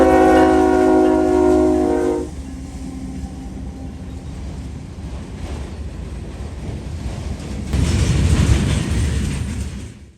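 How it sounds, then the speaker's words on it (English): Daily manifest and autorack freight train 189, Detroit to East Point, blows a loud sustained horn chord for about two seconds, then its cars rumble past steadily, the roar swelling again near the end. "189 is daily Detroit, Michigan to East Point, Georgia manifest and autoracks"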